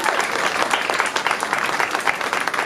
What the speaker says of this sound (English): I need a round of applause for that.